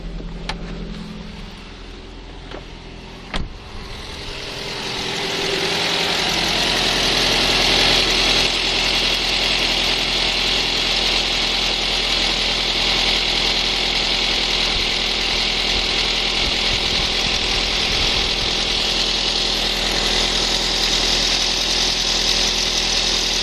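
A restyled 2008 Ford Focus with a 1.8 engine starts and settles into a steady, loud idle, its even mechanical drone running continuously after a brief quiet start with a few clicks.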